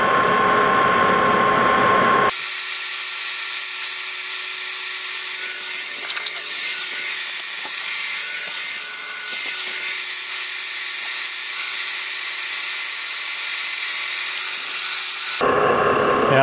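Greenlee shaper spindle being turned on a metal lathe during a heavier cut, a steady broadband hiss of the cutting tool on steel running continuously for about thirteen seconds, close and fairly loud, with no talk.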